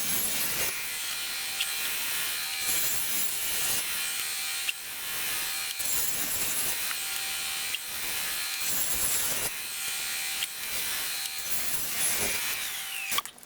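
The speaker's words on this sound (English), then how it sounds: "You'll be cutting the blocks and the slots at the same time." A saw cuts scrap wood blocks and jig slots in one continuous pass, giving a steady, loud, rasping cut that stays alone for the whole stretch and is broken only by brief dips between strokes.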